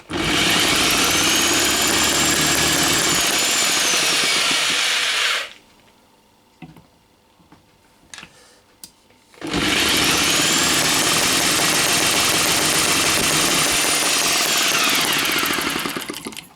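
A Microcosm M12 model engine, struggling with its fuel mixture, runs with a loud, high-pitched buzzing roar, cuts out for about four seconds of near silence with a few faint clicks, then is restarted and roars steadily again.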